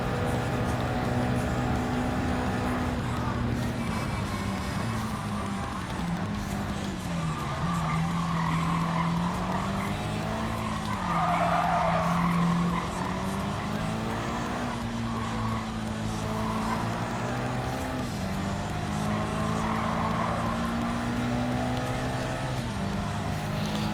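A race car in Gran Turismo 7 wall surfing along the Tokyo Expressway without braking, its engine droning loudly and steadily with rising and falling pitch and long tire squeals throughout.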